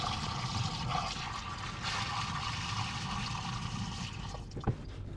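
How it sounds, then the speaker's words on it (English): Soapy water drains steadily into a van's sink and down the drain, gurgling continuously, with a soft splash and clunk near the end. "it drains straight into my sink and down the drain."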